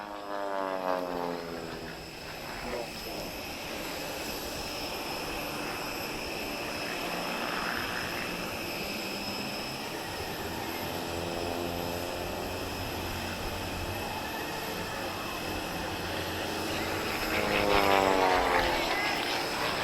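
An aerobatic airplane flies at an airshow in Portugal with a sustained propeller engine drone that sweeps in pitch as it passes, nearest and loudest toward the end.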